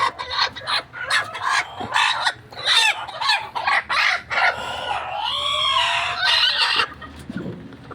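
Chickens on a farm cluck and squawk close by during egg collection, a busy overlapping chorus of sharp cackles and rising calls with no one speaking.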